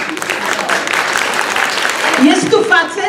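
Audience applause in a theatre during a stage show, a loud, dense wash of clapping that swells toward the end, with a voice faintly audible underneath.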